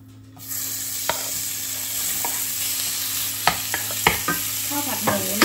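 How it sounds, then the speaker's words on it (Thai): Pork fried rice being stir-fried in a pan, with a steady close sizzle and a scatter of sharp clinks and scrapes from the utensil against the pan, getting busier toward the end, no talking. "ทีนี้เราก็จะมาทำข้าวผัด"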